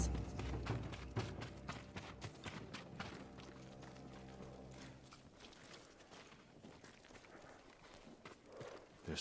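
Horses in the video game Ghost of Tsushima, with quiet rhythmic hoof thuds and clip-clops under a low tonal score, thinning out partway through.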